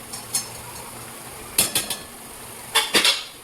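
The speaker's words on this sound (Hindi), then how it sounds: "ये जो बॉइल्ड चिकन है ये हम इसमें ऐड कर देंगे" Boiled chicken tipped into a pan of cooked capsicum for a pasta dish, giving a few short clinks and scrapes of a utensil against the pan in two quick clusters, with no talking.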